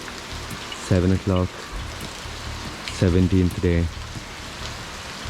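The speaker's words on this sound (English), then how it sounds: "it's a beautiful day, raining." Steady rain falls throughout on a roadside in Kerala at seven in the morning, a continuous hiss beneath several short bursts of a man's speech.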